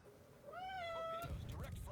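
A cat meows once in the World of Warships video game, a clear rising then falling tonal call up close, followed by a brief rustling burst.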